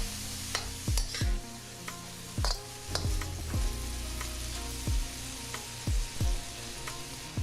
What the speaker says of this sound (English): Then we're gonna go ahead and give that a quick mix, mixing them flavors together.